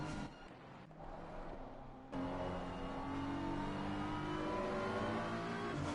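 BMW GT3 race car engine in the ACC racing game at Zolder, a steady loud revving drone that drops briefly, then surges back and holds strong with rising gear tones, no talk.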